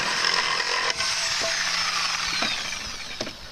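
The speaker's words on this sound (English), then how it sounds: "You can let the Sawzall go like that." A Sawzall reciprocating saw cuts through a wooden pallet board, giving a close, steady high buzzing rasp with a few brief knocks and changes in pitch as the blade works.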